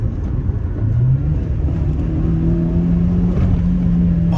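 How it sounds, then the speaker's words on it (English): Small Honda engine in a 1990s Rover Coupe pulling under acceleration, heard from inside the cabin as a steady, loud low-pitched engine drone with rising tone and road rumble, no talking. "That little Honda engine is just so much fun."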